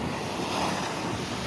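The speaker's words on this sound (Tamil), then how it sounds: "செம்ம அலடிக்குதுங்க." Ocean surf rolls onto the beach at Pondicherry, a loud, steady wash of breaking waves mixed with wind rumble on the microphone, with no voices over it.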